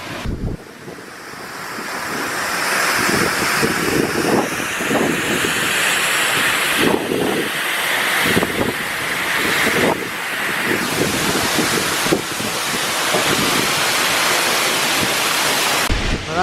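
A waterfall in south Iceland roars in a constant heavy rush of falling water, close and loud, while gusts of wind buffet the microphone in rumbling surges; no one speaks.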